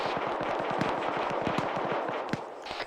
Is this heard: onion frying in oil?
no